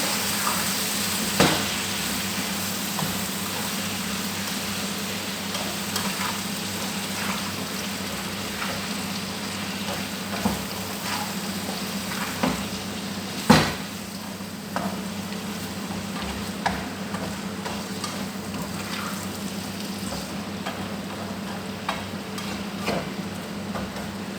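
Bitter gourd sizzles steadily in a pan while a spatula stirs it now and then, a constant close crackle broken by sharp scraping clicks and one louder knock, with no talking.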